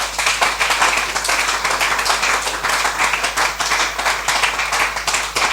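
A church congregation claps in rapid, rhythmic acclamation for the Lord, dense and loud throughout, a full room of hands beating together.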